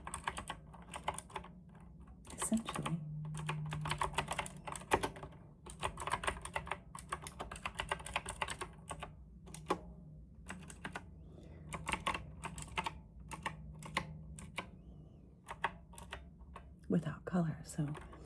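Keys clacking on a compact mechanical RGB keyboard, a steady close run of light typing strokes with a soft, quiet voice speaking over it in places.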